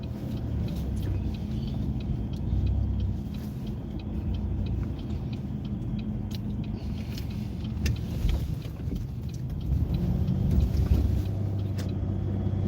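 A car driving on the I-94 expressway in heavy traffic: a steady, low road and engine rumble inside the vehicle with faint wind noise, continuous throughout and fairly quiet.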